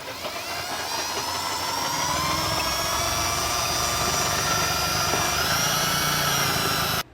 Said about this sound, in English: I'm going to drill with a 3/8 inch drill bit